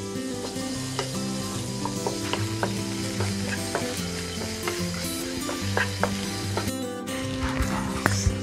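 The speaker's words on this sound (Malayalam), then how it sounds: "ഇതിലേക്ക് നമ്മൾ അല്പം ഉപ്പ് കൂടെ ചേർത്തിട്ടൊന്ന് വഴറ്റിയെടുക്കാം" Tomatoes and onions with salt sizzle steadily in a hot pan while a utensil stirs and scrapes with repeated clicks; a dog barks briefly in the background.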